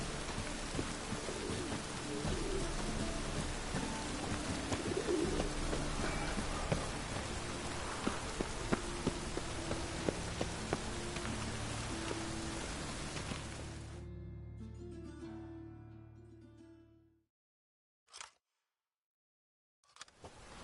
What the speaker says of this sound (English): Raining buckets.